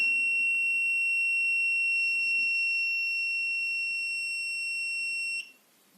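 An Alkofor-307 breathalyzer sounds a steady, piercing electronic tone after a too-short blow, holding for over five seconds before cutting off abruptly.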